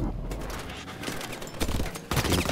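Gunfire in the video game Call of Duty: Advanced Warfare, a dense, continuous fusillade of shots with sharper bursts near the end, loud and mixed with other game noise.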